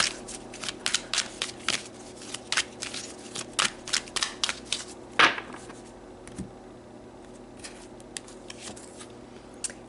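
Oracle cards shuffled by hand before one is pulled, giving a quick run of crisp riffling slaps and flicks, loud and close, that thin out into a few softer card sounds.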